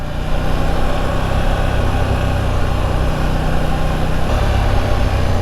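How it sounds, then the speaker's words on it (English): KTM 890 Duke R motorcycle engine during a ride: a loud, steady low engine drone mixed with broadband wind rush, with a slight change in engine note near the end. "I really like this engine."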